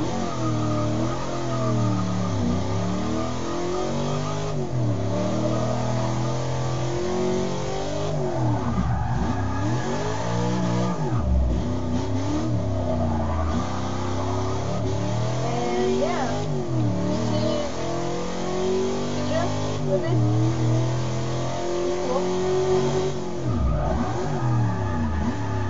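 A car engine revs and surges repeatedly while drifting in the racing video game Forza 6, with loud, continuous rising and falling engine pitch sweeps and no pauses across the whole stretch.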